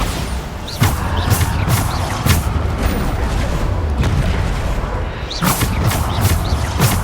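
Bombarda explosion spell cast in the Hogwarts Legacy game: a string of booming blasts rings out over dense, continuous combat noise, with several sharp bursts recurring through the stretch.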